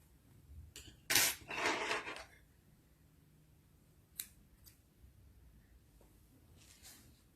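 Scissors snip through crochet yarn while changing colours, a brief crisp cutting burst around one to two seconds, followed by a few faint clicks and handling sounds in a quiet room.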